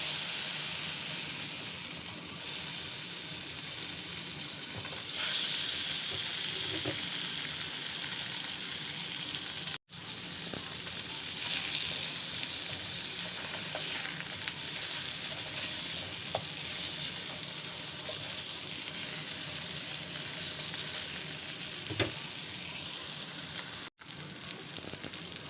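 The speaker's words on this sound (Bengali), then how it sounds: "তেল গরম হয়ে গেছে, এরপর দিয়ে দিচ্ছি মাছগুলো।" Koi fish frying in hot oil in a pan, a steady close sizzle and hiss that holds for about twenty-five seconds with occasional pops and stirring sounds, no talking.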